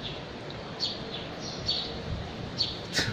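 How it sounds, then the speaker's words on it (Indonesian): Morning birds give a few thin, high chirps at scattered moments over a steady outdoor background hiss, faint and somewhat distant. "Suara burung-burung."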